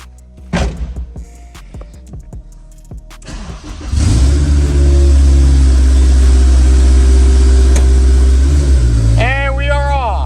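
A Honda S2000 that sat unused for two years is cranked and fires up after some clicks and shuffling, settling into a loud steady idle close by, with a voice briefly heard near the end.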